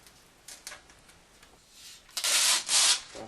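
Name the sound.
tape being peeled off perspex panel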